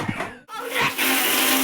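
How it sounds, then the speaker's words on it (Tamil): A kitchen mixer grinder whirs as it grinds Marie biscuits into fine powder, a steady high motor drone that cuts out briefly, then starts up again and runs on loud and close. "இதை நல்லா ஃபைனாக பவுடராட்டம் அரைச்சி எடுத்துக்கலாம்."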